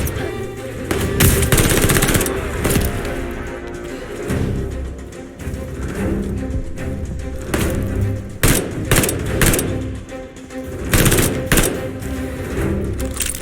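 Automatic gunfire fills a Call of Duty Vanguard Stalingrad battle, with loud close bursts, distant volleys and occasional thumps repeating steadily throughout.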